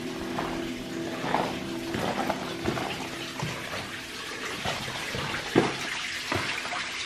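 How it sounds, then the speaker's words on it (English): Water running inside Balconies Cave at Pinnacles National Park, a soft continuous trickle and splashing with faint intermittent clatters, heard at a modest distance in an enclosed rocky space. "I hear water running back here"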